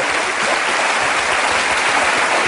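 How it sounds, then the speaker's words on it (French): Sustained, dense applause from a television studio audience fills the whole stretch, loud and steady with no break and no speech over it. "on applaudit beaucoup plus fort que ça pour qu'elle parte"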